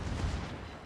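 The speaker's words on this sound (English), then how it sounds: "Enemy destroyer blown up." A destroyer blows up in the World of Warships naval game, a loud, heavy booming blast with a deep rumbling low end that rolls on for about a second, with no talk over it.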